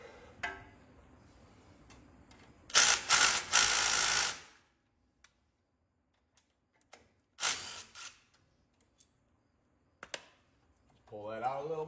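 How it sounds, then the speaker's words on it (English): A ratchet backs out a 10 millimeter bolt from a brake line bracket in a few short, loud bursts of rapid clicking separated by quiet gaps, with speech at the end. "You remove this bolt right here, which is a 10 millimeter."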